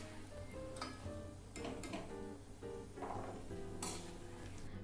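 Fried cashews are scooped from hot oil into a vessel, with faint metallic clinks and taps from a utensil against cookware over a low steady background hum.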